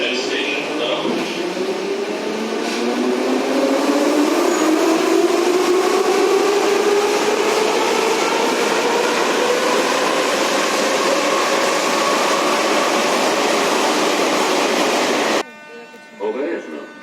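Kiev metro Type 81 train running with a steady buzzing motor whine that rises in pitch as it accelerates, under constant loud rumbling and rattling for most of the clip, then cutting out sharply near the end.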